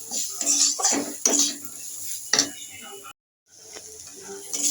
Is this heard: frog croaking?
no